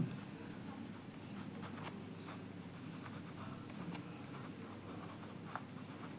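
Pen writing on paper while solving a Class 10 maths problem on partnership business, a soft continuous scratching with a few faint clicks and taps, close and steady throughout with no talk.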